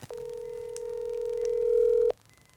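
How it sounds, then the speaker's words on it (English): A telephone sounds a steady dial tone for about two seconds as a prank call is placed, loud and close, then cuts off abruptly into near silence. "I think we should treat ourselves to a prank call for Tara."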